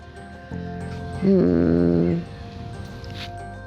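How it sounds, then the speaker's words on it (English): A brown dog whimpers and yips in a short, loud, whining cry lasting about a second, set against a steady bed of background music. "We need to find Hash Brown the dog"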